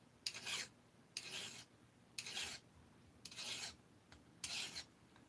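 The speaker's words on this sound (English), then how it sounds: "file a little bit more and make this even more of a bevel" A hand file bevels a port on a 346XP engine cylinder head in five close, quiet rasping strokes with short pauses between them.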